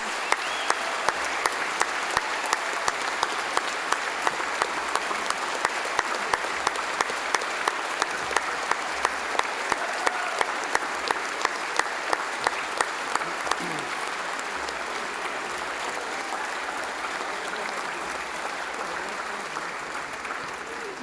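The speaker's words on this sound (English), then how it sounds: "How about a big round of applause?" A large crowd applauds warmly at a university graduation ceremony, a loud continuous wash of clapping with some rhythmic claps standing out, holding steady for about twenty seconds before easing slightly.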